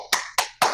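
Three sharp hand claps, close and evenly spaced, with nothing else around them.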